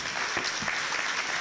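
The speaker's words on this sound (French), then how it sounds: "On vous applaudit très fort pour ces expressions" An audience applauding at an entrepreneurs' forum debate, a steady dense wash of clapping from the crowd throughout.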